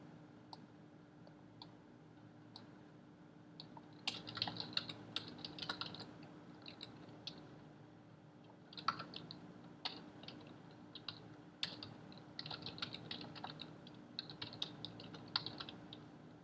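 Fingers type on a computer keyboard in quiet, irregular bursts of soft clicks and taps, close up, with brief pauses between runs of keystrokes.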